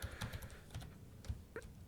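Keystrokes on a computer keyboard, quiet and close, with quick uneven clicks in short bursts and small pauses between them.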